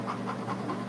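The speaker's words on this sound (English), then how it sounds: "I hear the dog." Dog panting in quick, steady rhythmic breaths, close and fairly loud, with no voices over it.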